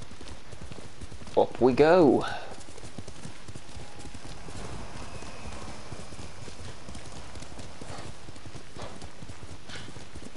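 Hooves of a horse named Nobu clip-clop in a quick burst in Ghost of Tsushima, a short loud flurry early on before fading into quieter ambient game sound, with someone talking over it.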